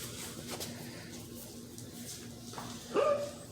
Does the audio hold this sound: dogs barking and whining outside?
yes